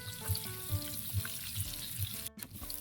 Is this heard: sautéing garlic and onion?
yes